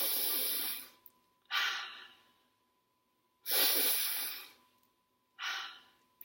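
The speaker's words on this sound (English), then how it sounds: "take a couple of really deep breaths" Four deep, slow breaths come from one person, alternating long airy inhales and exhales, close and clear with quiet pauses between.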